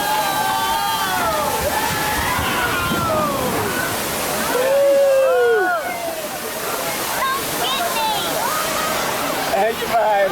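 Water crashes and sloshes loudly over riders on a Magic Kingdom log ride, a continuous roaring splash under excited voices and shrieks from the boat, swelling midway.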